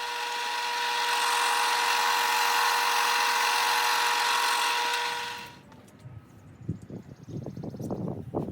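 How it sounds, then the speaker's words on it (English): A sanding drum on a drill press smooths templates for sailboat cockpit trim, giving a loud, steady high whine for about five seconds that then spins down and gives way to scattered knocks and handling noises. "A sanding drum on my drill press is used to smooth and fine-tune the templates."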